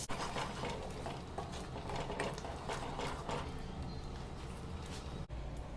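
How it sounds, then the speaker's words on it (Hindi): Tomato-onion masala paste fries in a pan, a dense close sizzle broken by repeated scraping and stirring strokes, ending with a brief knock. "इस मसाले को अच्छे से भूनेंगे।"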